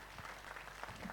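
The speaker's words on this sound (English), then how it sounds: "A huge round of applause for our panelists." Applause from a conference audience for a plenary panel, a short dense burst of clapping at moderate distance, filling the room steadily.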